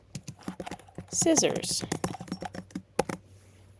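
Rapid clicking of a computer keyboard while coding a rock-paper-scissors program, the taps coming in quick bursts close to the mic under steady talking.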